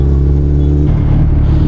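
A Suzuki Hayabusa motorcycle fitted with an M4 exhaust gives a loud, deep engine rumble up close, its tone shifting partway through as the throttle changes, with no talking.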